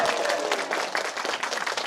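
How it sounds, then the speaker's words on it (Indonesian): A crowd applauds at a community aspiration forum, steady mid-level clapping from many hands sustained over the whole moment. "Tepuk tangan dulu dong."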